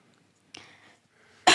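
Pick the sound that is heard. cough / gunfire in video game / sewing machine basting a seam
cough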